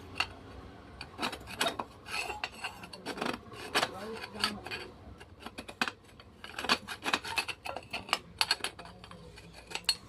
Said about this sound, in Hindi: तो यहाँ पे स्क्रू ड्राइवर की मदद से सबसे पहले हम इसको अंदर क्लीन करेंगे।